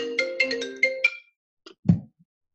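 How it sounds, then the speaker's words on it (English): A mobile phone plays a short melodic ringtone, several bright tones in quick succession, then cuts off, followed by a soft thump or click. "there goes my phone."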